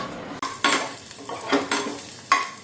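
Onions for dal sizzle and fry in a pan, with stirring scrapes and short bursts of crackling in an uneven rhythm, close by and without talk.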